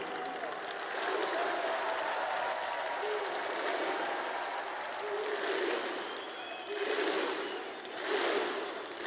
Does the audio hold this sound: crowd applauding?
yes